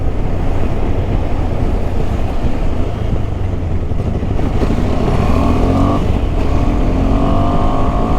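A KTM 390 Adventure single-cylinder motorcycle engine revving hard while riding, a loud continuous buzzing drone with rising pitch sweeps near the end, heavily mixed with wind rush against the microphone.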